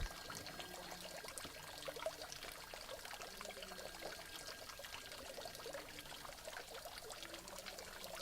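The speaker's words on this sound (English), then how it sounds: "a beautiful pool with a fountain of white marble, dripping languid streams of fresh water into the glassy surface" Fresh water spills from a white marble fountain into a still pool, a steady, soft trickling and pouring that runs continuously without pause.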